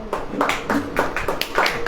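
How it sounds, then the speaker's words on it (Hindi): An audience claps at a sermon, the claps coming in a quick, fairly even rhythm at close range, with a faint voice in the background. "ताली बजेगी कि नहीं"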